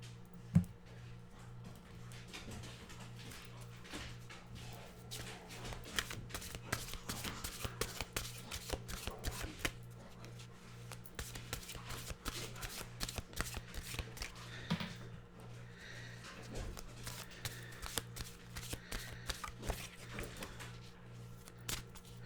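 Tarot cards are shuffled in steady, rapid riffling bursts with crisp repeated flicks, close and continuous over a low hum, with no talking.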